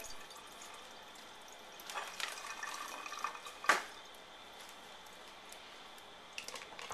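Rinsed Korean short ribs drain into a sink, giving soft trickling water with a few faint, scattered drips and one sharper drop midway in an otherwise quiet room.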